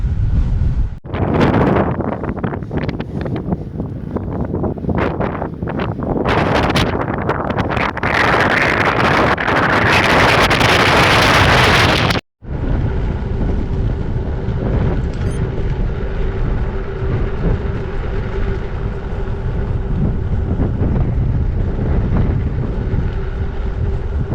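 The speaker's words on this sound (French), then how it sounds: "Mais waouh, quel vent de face!" Strong headwind buffets the microphone while cycling on a main road in Morocco, a loud continuous roar and rumble that drops off abruptly midway, then carries on as a steadier, slightly softer wind noise.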